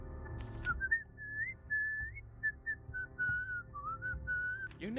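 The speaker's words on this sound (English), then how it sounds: "Whistle his tune." A melody from Slavonic Dances is whistled in the Cabernet video game, a clear, steady line of notes that rises and falls phrase by phrase over a low background hum, with no talking.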